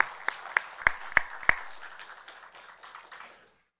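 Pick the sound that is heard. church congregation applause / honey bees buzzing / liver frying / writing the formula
church congregation applause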